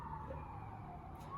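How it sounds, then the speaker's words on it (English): A siren wails past outdoors, a steady rising tone held throughout the short stretch, with traffic rumble underneath and no talking. "wait for the sirens to go by"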